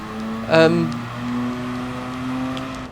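A Mazda RX-7 Spirit R rotary engine in GT Sport gameplay gives a brief rev burst, then settles into a steady droning hum; the car sounds moderately close and clear, with no talk over it.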